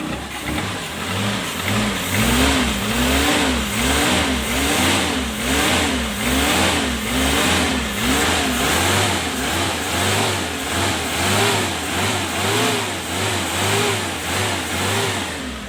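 A 1996 Daihatsu Espass 1.3-litre engine revs repeatedly in a rhythmic rise and fall, its pitch climbing and dropping in steady waves, loud and close.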